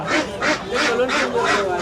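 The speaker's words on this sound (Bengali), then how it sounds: "এখানে প্রচুর হাঁস উঠছে আর কি। সব চীনা হাঁস, সব চীনা হাঁস।" A close, steady series of loud quacks from Chinese ducks, about five evenly spaced calls, at a duck-selling section of a rural Bangladeshi market, with background chatter beneath.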